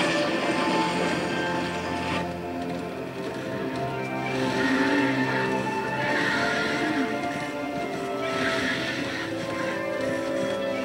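Horse in the video game Darksiders II whinnying repeatedly over a steady clip-clop of hooves, close and prominent with game ambience behind.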